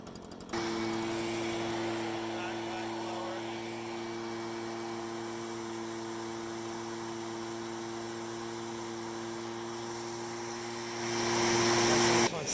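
A handheld gas leaf blower runs steadily and close by, its engine holding a constant drone with a strong tonal hum and airy rush, swelling slightly louder near the end.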